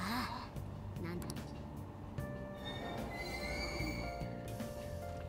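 A train transition sound effect from the video game Persona 5 Scramble, with squealing wheels and rail clatter over a rumbling carriage, while people talk over it.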